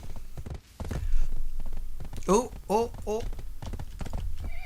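Horse hooves clip-clop in the game Black Desert Online in a steady walking rhythm, partly masked by a person talking over them and a few louder tonal calls in the middle.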